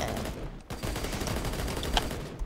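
Rapid SMG bursts in the Core video game, a dense crackling fusillade of shots running almost continuously at moderate distance, with a brief gap early on and no talk.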